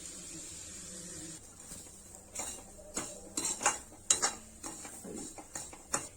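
Semolina roasting dry in a pan for khoa, semolina and coconut gujiya, stirred with a metal spoon that scrapes and clinks against the pan in irregular close knocks over a faint steady hiss.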